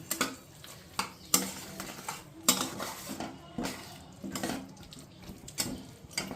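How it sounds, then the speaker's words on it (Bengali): A spoon scrapes and stirs a spice mix into capsicum in a pan for paneer, in quick irregular bursts of clatter with soft frying underneath and no voices. "আমি এই মশলাটাকে বেশ ভালো করে ক্যাপসিকামের সঙ্গে মিশিয়ে দিচ্ছি।"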